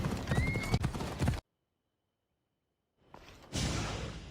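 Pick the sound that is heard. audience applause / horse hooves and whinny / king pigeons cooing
horse hooves and whinny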